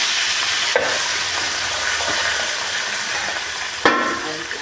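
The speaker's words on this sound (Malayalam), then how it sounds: "ഇത് ബീഫ് ഫ്രൈ ആക്കാൻ പോവുകയാണ്. വെളിച്ചെണ്ണയിൽ ഫ്രൈ ആക്കുകയാണ്." Precooked beef frying in hot coconut oil, a steady loud sizzle and hiss throughout with two brief stirring or scraping bursts and no talking.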